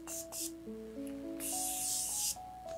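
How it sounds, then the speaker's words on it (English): Morphe Continuous Prep and Set setting spray hisses in two short bursts, close up and soft, over quiet background music with no talking. "now we're gonna go in with the Morphe Continuous Prep and Set Setting Spray."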